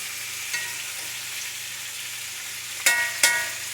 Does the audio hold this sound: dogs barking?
no